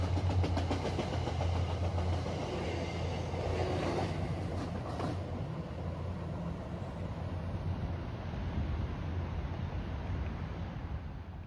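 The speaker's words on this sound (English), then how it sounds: "the conductor opens up the switch and gives his train permission to shove east" An Amtrak Portland extra train moves slowly at night, a low steady engine drone and rolling rumble at moderate distance that continues evenly throughout without talk.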